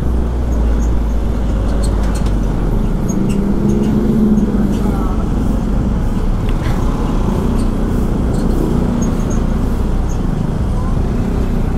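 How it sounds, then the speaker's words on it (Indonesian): Road traffic on a Bali road from Dalung to Kerobokan while overtaking a truck, a continuous low engine rumble and road noise with someone talking over it throughout. "Ini truknya sini lagi. Kita mau nyalip truk ini ya."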